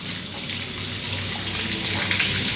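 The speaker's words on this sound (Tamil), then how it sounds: "நான் கையை சோப் போட்டு வாஷ் பண்ணிக்கிறேன்டி." Tap water runs steadily into a sink while hands are washed with soap, a continuous close splashing hiss with no talking.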